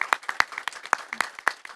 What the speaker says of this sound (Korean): 여러분 우리 박수로 또 응원의 박수 한번 부탁드리도록 하겠습니다.